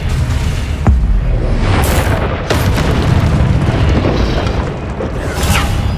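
Confringo fire spell blasts in the Hogwarts Legacy video game on PS5, loud booming explosions with sharp bursts over a constant rumbling battle din.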